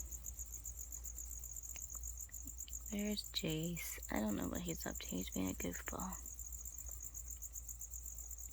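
Steady, continuous cricket chirping at night in a room with a pet gecko and its tarantula, a high bright trill running unbroken through the whole clip while someone talks softly in the middle.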